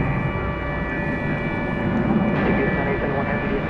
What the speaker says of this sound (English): right behind this aircraft is American Flight 633 arriving from Phoenix, Arizona. It's an Airbus A321.